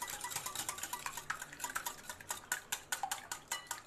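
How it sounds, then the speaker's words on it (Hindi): Egg is beaten briskly in a bowl for onion ring batter, a rapid, regular run of light clinking whisk strokes against the bowl, close and fairly quiet with no talking. "मैंने बॉल लिया है, उसमें एग को तोड़ लिया है। मैं इसको बहुत अच्छा सा बीट कर लूँगी।"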